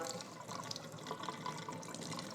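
Water streams steadily from a FrizzLife M800 alkaline water filter tap, a close, continuous splashing and trickling with no talking.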